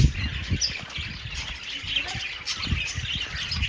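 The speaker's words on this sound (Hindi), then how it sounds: "यहाँ पे काफ़ी सारे परिंदे हैं यहाँ पे" A flock of birds, including parrots, chirps and squawks continuously at close range, with sharp calls overlapping throughout.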